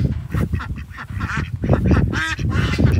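Small ducks quacking and honking continuously in a busy, overlapping flock, loud and close throughout, with no talk.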